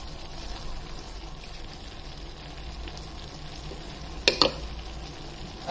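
Vegetables and leafy greens for a mixed vegetable bhaji being stirred in a hot frying pan, giving a soft steady sizzle with a couple of brief scraping clinks of the spoon, no talking.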